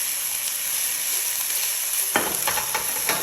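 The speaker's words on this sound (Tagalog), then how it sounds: "Ngayon i-add ko na yung ginger at garlic. Mix ko siya." Onion, ginger and garlic frying in a hot pan, a constant loud sizzle that turns into scraping stirring strokes toward the end, with no voices.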